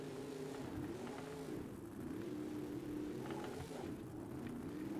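A monster truck engine in the BeamNG video game during a freestyle run at a Monster Jam show, a loud continuous low growl that rises and falls in pitch as it revs, with no talk.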